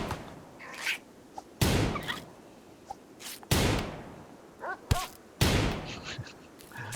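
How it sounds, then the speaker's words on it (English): Revolver gunshots in the video game RimWorld ring out as four or five sharp, loud cracks spaced a second or two apart, each with a brief decaying tail, between a few softer clicks and game effects. "Meanwhile, I need you to shoot at that bunny."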